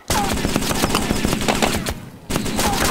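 A PKM machine gun fired in the DayZ Overpoch game, loud rapid bursts of close gunfire with a brief pause before another burst, no talk over it.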